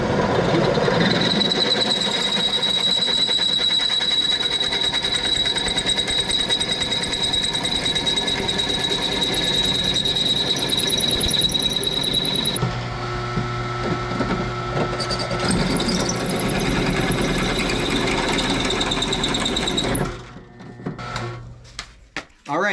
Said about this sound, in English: let's go over to the drill press. This is a 3/8 bit.